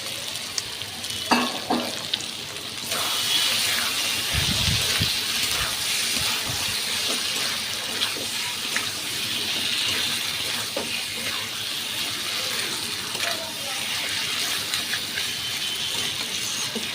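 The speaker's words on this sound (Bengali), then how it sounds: "আর একটু গরম জল দিয়ে ঢেকে রাখবো অল্প" Hot water goes into a pan where kochur loti (taro stolons) are frying in oil, and the hot pan gives a loud, steady, broad hiss and sizzle that keeps going.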